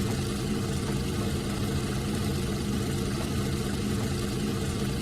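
Diesel locomotive engines in the train simulator game Trainz 2019 drone and rumble steadily as they load up, a continuous heavy low-pitched roar with no voices.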